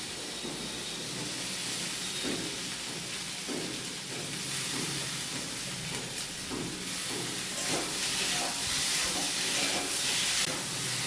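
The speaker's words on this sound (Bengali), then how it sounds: "কচুগুলো বেশ কিছুক্ষণ ভেজে নিয়ে এবার দিয়ে দিচ্ছি পেঁয়াজ কুচি" Chopped onion sizzling in hot oil with pieces of mukhi kochu (taro) that were fried first for an egg curry, a steady broadband hiss throughout with occasional faint scraping.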